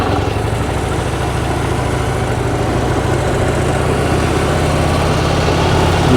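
A hot Harley-Davidson motorcycle engine idles up close, a steady low rumble with a constant throbbing hum that never changes pace, heard alone with no talking.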